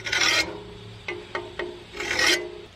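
A file rasping along an antique Keen Kutter scythe blade, close and loud, with two long grinding strokes framing three short scraping strokes in between, no voices.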